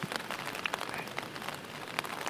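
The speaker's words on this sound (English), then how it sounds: "it's been raining on and off for" Rain patters on a tarp at a wild camp in the Lake District, a close, quiet scatter of irregular taps and drips over a soft hiss.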